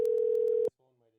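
A steady telephone tone sounds for under a second after a phone call drops, then cuts off abruptly, leaving faint low residue.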